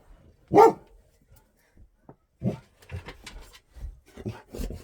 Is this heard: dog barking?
yes